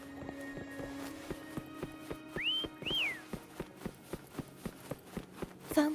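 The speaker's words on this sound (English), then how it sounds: "Why don't you call Foam over? Try whistling." In the video game Wuthering Waves, a two-note rising whistle calls a mount, set against a steady run of rhythmic hoof-like footsteps and a faint background music tone.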